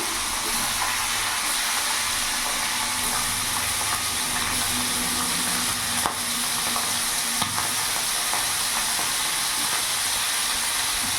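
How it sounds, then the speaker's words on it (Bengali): Small tangra catfish sizzle steadily in hot oil, a dense continuous hiss with occasional sharp pops and spits from roe bursting, close up and without talking. "ট্যাংরা মাছের পেটে ডিম রয়েছে, ওই জন্য একটু করে ফুটছে"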